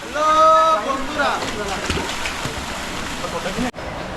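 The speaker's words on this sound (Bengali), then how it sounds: "এই যে আমরা চলে আসছি ঝর্নার একদম কাছাকাছি" Rupashi waterfall in the Bandarban hills roars up close among boulders, a steady broad rush of falling water with people talking over it.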